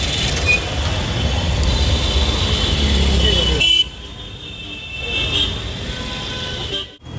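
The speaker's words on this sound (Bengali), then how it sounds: "খালি গাড়ি জ্যাম, দেখো কত বাইক।" A road traffic jam of cars and motorbikes in rural Bengal, India, rumbles loudly and steadily while a horn toots. The noise drops away sharply midway, and voices are heard nearby.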